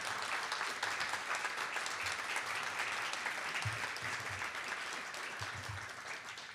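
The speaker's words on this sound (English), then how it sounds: "let's give Pat, who's here tonight, a big round of applause." A tech meetup audience gives a big round of applause, a sustained dense clapping that stays full and even, slowly tapering toward the end, with faint low voices beneath.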